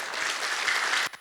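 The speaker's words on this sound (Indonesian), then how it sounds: "tepuk tangan untuk kita semua" A crowd at an anniversary event for an Indonesian company claps together in a brief, dense burst of hands that stops abruptly near the end.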